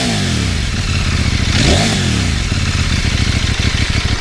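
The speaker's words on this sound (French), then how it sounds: "on va lui faire prendre un petit peu de régime pour voir ce que ça donne" A CFMOTO 800 MT Explore motorcycle engine revs up and falls back, loud and close, with rising and falling engine pitch over a steady idle rumble and no talk.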